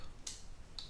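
A few quick, crisp keystrokes on a computer keyboard, close and fairly quiet, separated by short pauses, with no talking.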